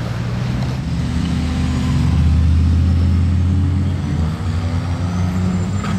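Ferrari sports car engine, LaFerrari among the models, revving with a loud sustained low roar that swells in the middle and holds steady, close by.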